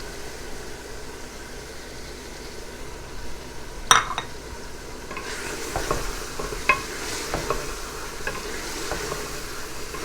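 Tomatoes sizzle in a hot pan after dropping in with a sharp clink, then stirring and soft scraping continue over the steady frying hiss.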